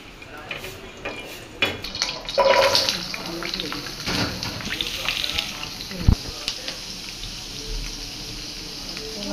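Mustard and spice tempering for sweet pumpkin bhaji sizzles in hot oil, with a sharp burst of crackling early on that then fades into a lower fry with some utensil clinks, while a person talks.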